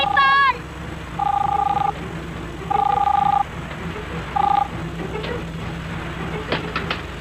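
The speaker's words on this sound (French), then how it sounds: "Décrochez le téléphone!" Telephone ringing in a tense hostage standoff aboard a bus, several loud electronic ring bursts repeating with pauses, over a low background hum.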